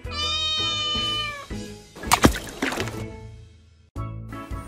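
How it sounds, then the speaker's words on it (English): A domestic cat meows several times in quick succession, loud and close, followed by a rougher, noisier burst and a final short meow, with no talking. "Cat."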